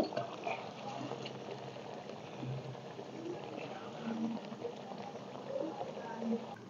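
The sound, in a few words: Bengali rui fish curry boiling in a pan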